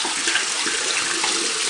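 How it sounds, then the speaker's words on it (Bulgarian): Warm water running over hookah parts being washed, a loud, continuous close rush of tap water with no pauses. "Всички тези неща просто ги измивате с топла вода."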